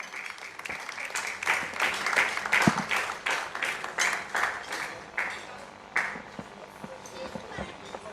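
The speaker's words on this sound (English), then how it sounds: "A round of applause for him." Applause at an award ceremony dinner night for a Nigerian private medical association, heard as scattered, fairly quiet clapping from a crowd that builds and then thins out, with voices talking underneath.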